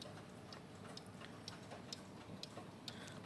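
Steady ticking of a Dutch wall clock with teardrop weights and a Delft blue wallpaper dial, sharp faint ticks at an even rhythm, about two per second, over a quiet room hiss.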